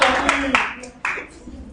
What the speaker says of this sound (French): On acclame notre ami.